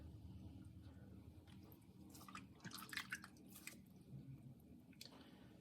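Water squelches and drips as a sponge soaks it out of the bottom of a clay bottle being thrown on a pottery wheel, with soft wet squishes and trickles over a steady low wheel hum, no talk.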